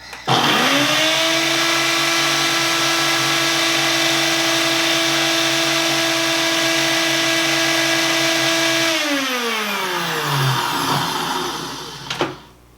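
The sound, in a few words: Ninja blender grinding dry chia seeds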